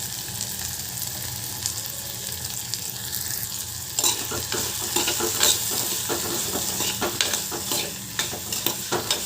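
Drumstick pods with tomato and salt frying in a pan for a curry, a constant close sizzle that turns busier partway through as stirring scrapes and clatters begin.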